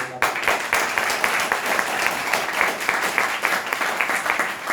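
A seminar audience applauds Rahul Kumar with loud, sustained clapping that fills the hall close up, continuing steadily without a break.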